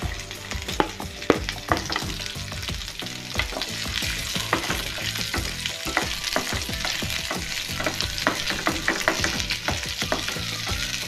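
Onions frying in a pan with red chillies for masala puri, a steady close sizzle broken by frequent scraping and clinking as a utensil stirs against the pan, with no talking.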